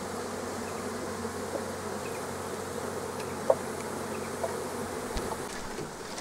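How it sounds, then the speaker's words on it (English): Honey bees pour out of honey super frames in a dense, continuous buzzing swarm, a steady close drone with a few brief sharper buzzes passing nearby and no talking. "you'll see the bees pouring out."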